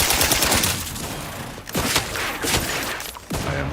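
Gunfire in the video game The Outer Worlds 2 rattles in close, rapid bursts, with sharp individual shots breaking through the sustained volleys.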